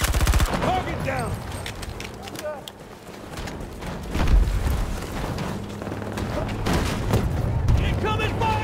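Gunfire and artillery from a Battlefield 2042 Rush match: dense bursts of automatic fire, sharp shots and heavy booming blasts roll on without a break. Game voices call out over the din.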